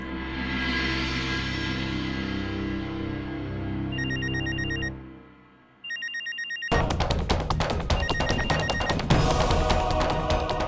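A telephone rings in two short electronic bursts over a steady background hum, then a busier, louder stretch of sound follows, with no talking.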